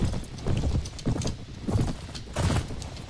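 Rhythmic hoofbeats of a galloping horse in the video game Mount & Blade Warband, repeating bursts of thudding clip-clop at a steady pace, fairly close and loud, with no voices.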